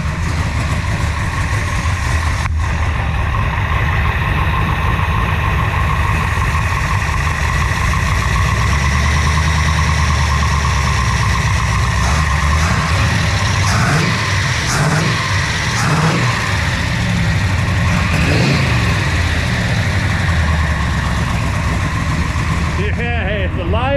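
A 1965 Shelby Cobra with a 454 big block engine idles loudly and steadily with a rough low rumble, rising in a few brief revs near the middle, while people talk over it.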